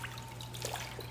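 Collard greens are swished around in a large sink full of water, giving a faint, continuous trickling and sloshing with no pauses and no voices.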